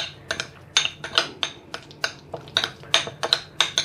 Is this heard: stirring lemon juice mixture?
yes